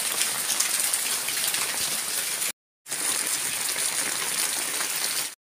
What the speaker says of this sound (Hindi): ये देखो हर घर घर में से पानी गिर रहा है